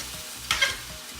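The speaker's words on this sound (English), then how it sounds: "Now we're going to put in the sauce combo. Oh, nice. And stir that for 1 minute." Beef stir fry coated in sauce sizzles in a pan as it is stirred, with a couple of sharper scraping strokes over a steady low frying hiss.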